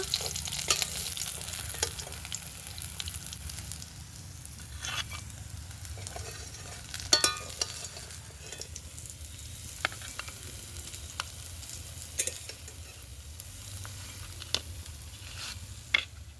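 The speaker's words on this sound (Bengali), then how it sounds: "তো মাছগুলো লাল লাল করে ভেজে নিয়েছি দেখুন।" Fish pieces frying in hot oil in a home kitchen while a Bengali tomato-fish mash is made, a steady close sizzle with scattered pops and spatters throughout, no talking.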